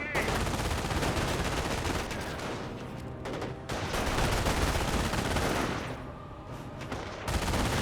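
Jeep-mounted machine gun firing at a Schwimmwagen in a Company of Heroes 1 battle, steady rapid bursts layered with other gunfire, loud and dense with brief dips, mixed under commentary.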